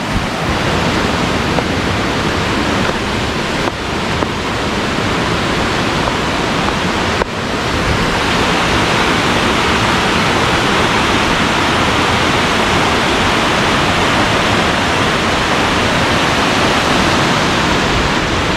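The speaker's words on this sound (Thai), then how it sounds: "เสียงคล้ายๆเสียงน้ำตกเลยครับ" Loud, continuous rushing water flowing out of a cave roars without a break, a dense broadband wash like a waterfall, with a brief knock partway through.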